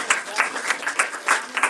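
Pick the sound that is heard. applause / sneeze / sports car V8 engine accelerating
applause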